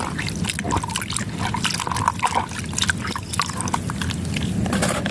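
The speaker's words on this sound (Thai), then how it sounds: "ใบยอนะคะ ให้เป็นน้ำเขียวๆเลยนะคะผู้ชมขยี้ในน้ำนี่แหละค่ะค่ะ" Noni leaves are crushed and squeezed by hand in water to make a green plant spray. Close, wet squelching comes in quick, irregular bursts with trickles and drips between them. Nobody talks.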